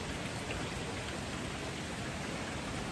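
Steady rain falling during a storm at a village building site, an even, dense hiss with no breaks, close and constant throughout, with no voices.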